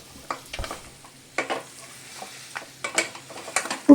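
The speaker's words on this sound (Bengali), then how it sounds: "এটা আমি এইভাবে খুব ভালো করে নাড়তে থাকবো যাতে তলাটা ধরে না যায়" A spoon stirring mutton paya in a pot over a medium flame, with intermittent scraping and clinking strokes in an irregular rhythm over a quiet background.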